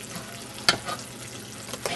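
Homemade red chile frying in a pan, a soft steady sizzle broken by one sharp scrape of stirring and a couple of fainter clicks, close and without talk.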